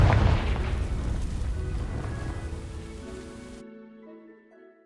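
A fire spell igniting dry vines in Hogwarts Legacy, a loud booming burst followed by crackling fiery noise that fades away over a few seconds into a soft musical tone.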